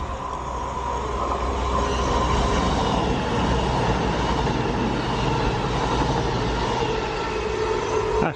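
A CrossCountry train heading into Birmingham New Street rumbles past steadily, a broad sustained roar of wheels and engine at moderate distance, loud and unbroken for several seconds, with no talk over it.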